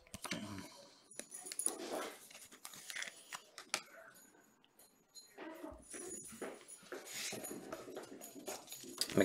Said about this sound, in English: Dogs gone wild.